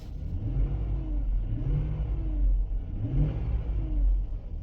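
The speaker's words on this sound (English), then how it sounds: "Let's rev it up." A car engine inspected at a vehicle auction revs up in several swells, a steady close mid-pitched rumble rising and easing without speech over it.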